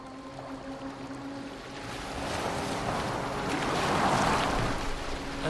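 A boat moves across open water in Assassin's Creed Valhalla, a steady wash of water and wind swelling gradually louder, with no voices.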